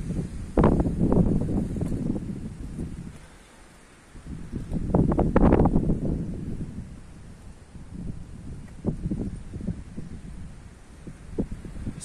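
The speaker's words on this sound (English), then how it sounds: "it's so windy today that it's very difficult to walk with a bicycle" Gusty wind buffets loudly in surges, roaring and rumbling in bursts with brief lulls between, close and blustery.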